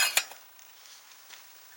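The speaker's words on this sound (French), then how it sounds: "Les casseroles." Metal cookware clinks sharply a couple of times near the start, then light scattered clatter and faint knocks follow in a quiet, echoing room of an abandoned factory.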